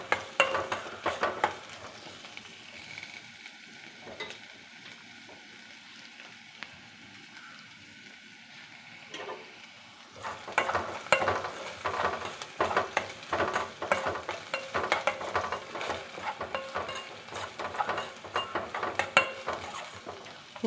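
Ginger, onion and green chilli sautéing in a pan, a steady sizzle with bursts of stirring and scraping that grow louder and busier in the second half.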